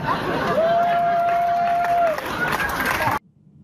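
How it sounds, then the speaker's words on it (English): An audience cheering and shouting as a crowd at a trans activist's speech, a dense, loud roar over steady murmur with a faint sustained tone, cutting off abruptly after about three seconds. "Do you hear the sickos in the audience that are cheering?"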